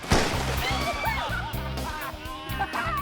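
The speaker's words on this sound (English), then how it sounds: "a bottle bomb at the surface" A bottle bomb detonates at the water's surface and throws up a sloshing, churning splash that carries on for a few seconds, mixed with people chuckling and talking in the background.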